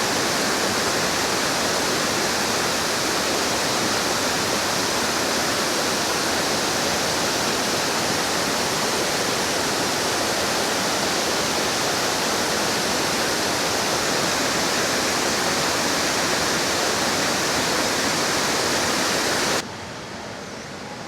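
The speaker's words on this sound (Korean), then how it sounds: "아까 저기 멀리서 봤던 폭포 가까이 와서 볼 수 있는데" A waterfall near Luang Prabang, Laos roars up close as a loud, steady broadband rush of falling water, unbroken for about twenty seconds before dropping slightly in level near the end.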